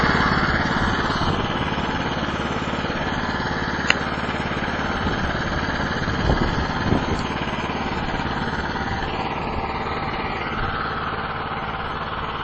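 Small Chinese-made snow blower engine running steadily after a cold start at about one-eighth throttle, a continuous close, loud, even mechanical drone with a faint crack in its housing and no pauses across the whole stretch.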